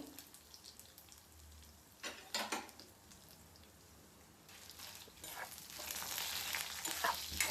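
Byadgi red chilies frying in hot oil, a steady broadband sizzle that swells louder toward the end, with brief bursts of stirring and crackle and no voices.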